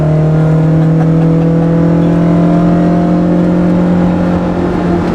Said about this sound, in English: in an E30 M3 in front of the Colorado Rockies, downshifting to third